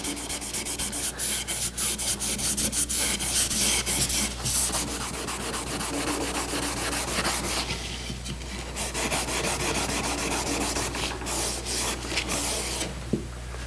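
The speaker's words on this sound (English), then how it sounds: "I'll buff all these pieces with a red Scotch-Brite pad." A red Scotch-Brite pad buffs the wood of an antique furniture frame, giving a continuous close rubbing and scrubbing with quick back-and-forth strokes and no talk.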